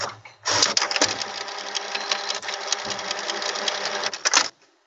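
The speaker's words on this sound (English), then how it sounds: "I'm waiting for the printer to be done." A home printer runs a print job, giving a continuous fast mechanical rattle and whir for about four seconds before stopping abruptly.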